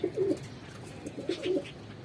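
Pigeons cooing nearby, two short bursts of soft low throaty coos with a quiet pause between them, alone with no talk.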